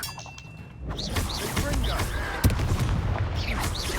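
The Confringo fire spell going off in the video game Hogwarts Legacy: a single sharp, punchy blast lands mid-scene amid busy combat ambience, with a voice and other effects around it.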